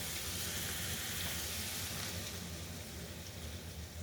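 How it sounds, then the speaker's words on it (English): Blended tomatoes hitting a hot pan of eggplant and red bell peppers, a steady, dense sizzle and hiss that holds evenly throughout, close and moderately loud, with no talking. "Then I add 1/4 cup of blended tomatoes"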